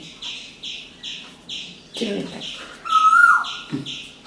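An Asian koel calls in a steady series of repeated notes, joined by a sharper whistled call; a voice speaks briefly in between, heard from a home kitchen in the morning.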